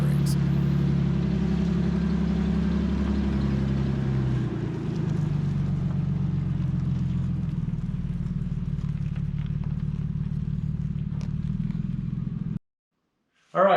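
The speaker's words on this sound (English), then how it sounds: "4-low first gear, it crawls and it is awesome." Korean War era military Dodge M37 truck engine idling and crawling in four-low first gear, a steady low rumble throughout that cuts out abruptly near the end.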